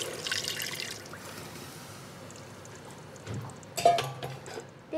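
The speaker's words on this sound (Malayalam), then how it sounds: "ഞാൻ 3 കപ്പ് വെള്ളം എടുത്തിട്ടുണ്ട്, അത് ഇതിലേക്ക് ഒഴിക്കുകയാണ്" Water is poured over chicken in a cooker for chicken mandi, a soft trickling stream with a few splashy drips, fairly quiet and with no voices.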